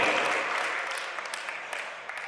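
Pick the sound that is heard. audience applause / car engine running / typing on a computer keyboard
audience applause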